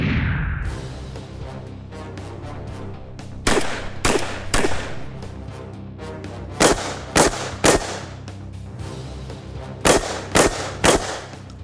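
A semi-auto shotgun is fired live in a 3-gun match, with loud, sharp reports that come singly and in quick doubles and triples and ring over a steady outdoor background.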